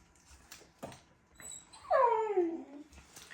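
Dog whimpering indoors beside someone changing mobility scooter batteries, a single drawn-out, rising-and-falling whine close by, preceded by a few soft thumps and handling noises.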